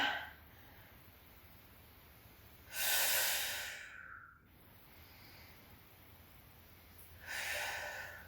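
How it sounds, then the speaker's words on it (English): Two heavy, breathy exhalations during a beginner full-body weight lifting set, each a loud broadband rush lasting about a second, spaced several seconds apart over quiet background. "inhaling down, exhaling up"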